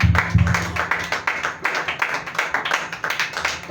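A church congregation applauding for Jesus, steady rhythmic clapping from many hands in unison, sustained and fairly close.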